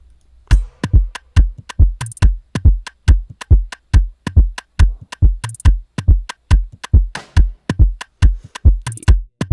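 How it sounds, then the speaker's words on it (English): A punchy, steady Afrobeats drum loop with deep kicks and crisp hits repeating in a tight, bouncy groove, occasional bright cymbal accents, no voices. "the very first drum loop I added was this"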